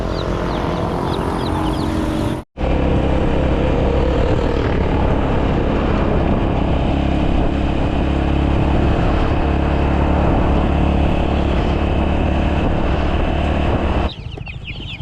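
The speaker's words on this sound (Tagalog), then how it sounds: "iniram ko rin yung makina kasi papatubigan natin yung mga talong." A borrowed engine-driven water pump for irrigating eggplants on a farm, running as a loud, steady droning motor throughout, briefly cut near the start, with faint chicken clucks in the background.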